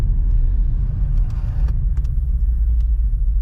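A Mustang drift car's engine running at a drift park, a steady low rumble with a few sharp clicks and ticks over it, no talking.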